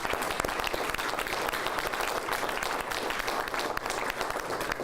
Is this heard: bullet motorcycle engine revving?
no